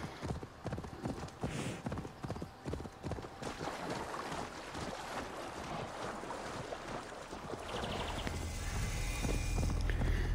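Horse hooves clip-clopping in Assassin's Creed Valhalla as a rider travels on autopilot, a brisk rhythmic run of hoofbeats up front with wind and ambient outdoor noise swelling toward the end.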